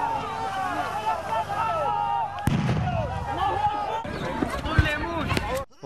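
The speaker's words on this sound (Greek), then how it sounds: "Οι Σκοπιανοί αστυνομικοί ρίχνουν χημικά και πλαστικές σφαίρες προς την πλευρά των προσφύγων" Police firing chemical canisters and plastic bullets at a border fence, heard as sharp pops and bangs at a distance amid a constant crowd roar and shouting from refugees.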